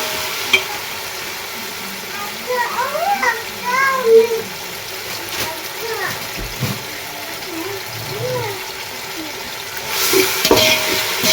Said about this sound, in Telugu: ఇలా అంతా మళ్ళీ ఒకసారి అంతా కలిపి ఫ్రై చేయాలి